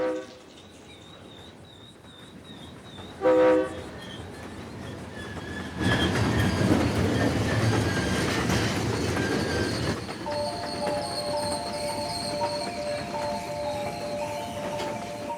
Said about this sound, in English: the noise of the train's horn unsettles them